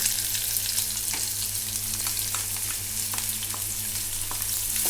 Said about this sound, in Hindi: अब मैं इसमें एक प्याज मैंने काट के रखा है, ये मैंने डाल दिया।